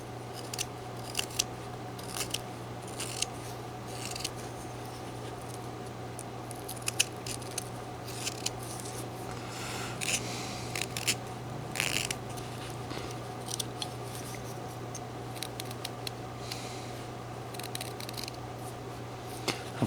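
Knife whittling into wood while carving a wolf figure, with small scattered cutting clicks and scrapes close by over a steady low hum, no speech.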